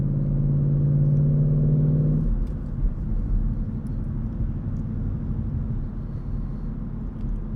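A 2017 Ford Mustang GT Performance Pack V8 rumbles under light throttle, a deep steady drone with a brief tonal hum at the start that fades into a low continuous growl.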